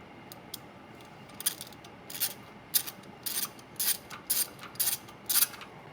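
A hand ratchet tightens bolts on new RV brakes, giving bursts of quick, close metallic clicking in an uneven rhythm, louder toward the end.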